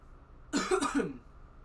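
A single short, harsh cough burst, close and clear, lasting under a second against a quiet background.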